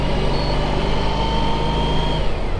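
A Honda ST1300 touring motorcycle engine running steadily with a smooth, quiet, even hum, close and constant throughout, with no voices.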